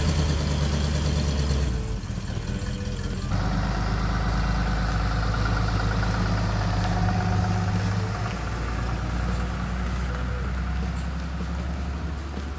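A vehicle engine idles and runs steadily nearby, a continuous low mechanical drone with a shift partway through, as a truck towing a trailer loaded with a 1977 Dodge custom street van pulls away.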